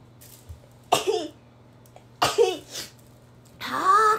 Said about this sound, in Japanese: はぁ、くしゃみ止まらん。